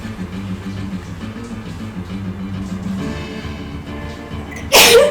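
After a stretch of quiet room hum, a single sharp sneeze bursts out loudly near the end.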